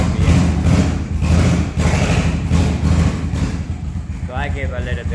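A cold Honda Shadow VT500 motorcycle engine idles at roughly 1,000 RPM with a loud, steady low throb and lumpy exhaust pulses, while someone talks over it.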